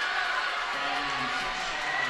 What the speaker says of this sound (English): the Albright fans are cheering as well